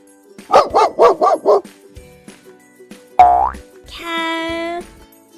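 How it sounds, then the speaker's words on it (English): A dog barks four times in quick succession, loud and close, followed by a cartoonish boing and a sustained synthetic tone; no voices. "Dog says woof"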